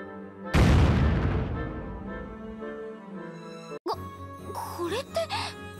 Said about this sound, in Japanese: 大爆発を起こしてやるわよ